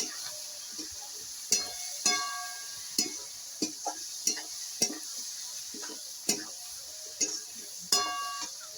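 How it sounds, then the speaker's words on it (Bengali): Whole chillies and chilli powder stirred in hot oil in a pan. Sharp scraping and clinking strokes land about once a second over a soft, steady sizzle, close and fairly quiet. "লঙ্কা গুঁড়ো পরিমাণ মতো চারটে গোটা লঙ্কা দিয়ে একটু নাড়াচাড়া করে নেব"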